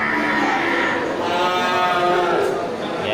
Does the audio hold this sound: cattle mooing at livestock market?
yes